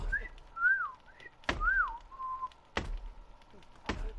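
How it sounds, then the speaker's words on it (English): A person whistles short, rising and falling notes while playing the survival game The Forest. Several sharp thuds and knocks break in between the phrases, all fairly quiet and close. "I'm whistling."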